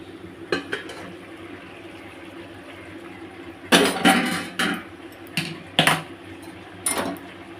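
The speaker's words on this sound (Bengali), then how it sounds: "আমি এবার আরেকটু ঢাকনাটা খুলে দেখব আমার রান্নাটা কত দূর এগোলো।" Metal clatter of a cooking pot lid lifted from pulao cooking on the stove, a few sharp clanks and a longer scraping rattle against a low steady background hum, with no voices.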